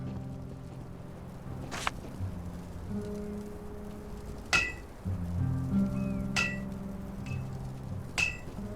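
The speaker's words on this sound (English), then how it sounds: "all that hammering is going to be torture" Blacksmith hammering at a forge in Divinity II, with a few sharp metallic clinks spaced several seconds apart over a steady low ambient hum, moderately loud and without talk.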